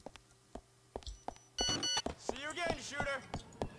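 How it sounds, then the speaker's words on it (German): A short electronic SMS text alert tone from a phone in GTA IV plays as a run of bright beeps, set against ticking game sounds and a voice talking over it. "Eine SMS von Stevie."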